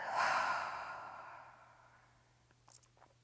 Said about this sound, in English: Take a nice big breath in through your nose and exhale out your mouth.